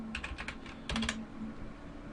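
Keys clatter on a computer keyboard in two quick bursts of typing, the second a tight cluster of clicks, then quiet.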